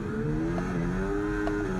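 Race car in the F1 24 video game launching off the start line, a steady loud engine drone with sustained harmonic whine rising slightly through the short burst, no voices.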